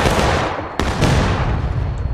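Rifle volley from a line of soldiers in the Civil War game War of Rights: a sharp, loud crack of massed shots, then a second ragged report, over a steady roar of distant battlefield gunfire.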